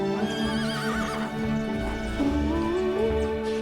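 In the video game Star Stable, a horse neighs and whinnies with wavering, rising calls over steady hoof clip-clop and background music, close and continuous with no talk.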